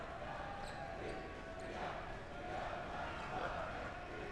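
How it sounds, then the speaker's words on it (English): A high school basketball crowd at Sussex Hamilton vs Brookfield East, a steady, moderately loud murmur and cheer in a gym, with faint sneaker squeaks and some swelling toward the end. "And they're picking it up in the crowd, the background there."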